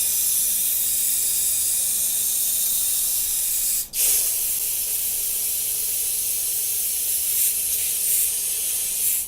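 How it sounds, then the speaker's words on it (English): Steam cleaner blasting steam through a car's dashboard vents, a loud continuous close hiss that cuts out for a brief instant partway through and then resumes, with no speech. "What I'm detailing is running a bunch of steam through the vents."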